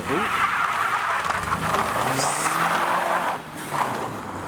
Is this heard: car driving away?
yes